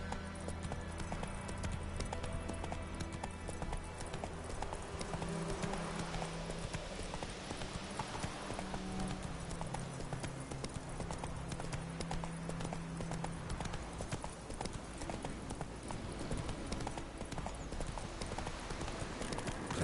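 The horse Roach's hooves clip-clop in a steady walking rhythm in a video game, moderately close and continuous beneath a low ambient background, with no clear speech.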